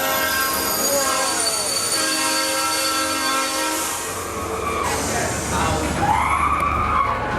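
A train sound effect in an amusement park ride queue rumbles steadily with squealing wheels and harmonic tones, voices murmuring faintly in the background throughout.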